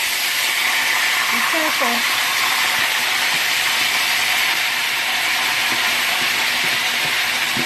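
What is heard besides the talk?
beef kidney sizzling as it goes into hot oil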